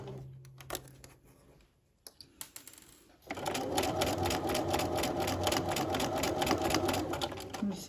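A sewing machine stitching bias binding on a tee shirt, a few scattered handling clicks first, then a loud steady rapid stitching rhythm running to the end.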